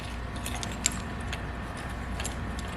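Keys dropped and jostled into an expansion kit container, a few light metallic jingles and taps over a steady low background, with one crisp clink standing out.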